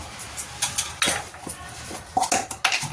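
Cumin seeds dropped into ghee in a pan while making a fasting dish, heard as a series of light clinks and scrapes of a spoon against metal cookware, close and irregular, with no talking.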